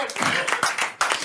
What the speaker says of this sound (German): Ein Applaus für Gerhard Müller.